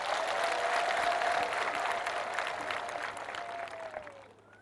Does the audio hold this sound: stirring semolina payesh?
no